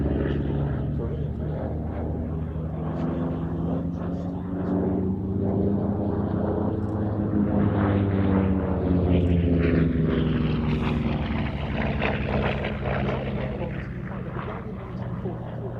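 A propeller-driven display aircraft passes at the Fly Navy airshow at Shuttleworth, its engine drone swelling and falling as it flies by at a moderate distance, with a commentator talking over the sound throughout.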